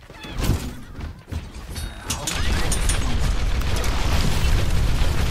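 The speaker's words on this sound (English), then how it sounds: "This new missile attack is very hard to handle" Missile attack explosions in the video game Overwatch, played at super low resolution on an Intel Atom GPD Pocket: a burst of booms early on, then a sustained loud rumbling roar of blasts and game noise.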